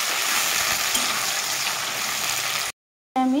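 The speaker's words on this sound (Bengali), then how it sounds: "দিয়ে দিব পেঁয়াজ। প্রথমে হালকা ভেজে দিব, নাড়িয়ে দেবো।" Onions frying in a pan for Bengali mutton kosha, a dense continuous sizzle that runs loud and steady, then cuts out briefly before a short tonal sound follows.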